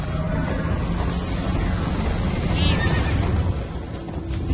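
A horse neighs in Minecraft: Story Mode, a short whinny rising over a steady, dense bed of game sound and music.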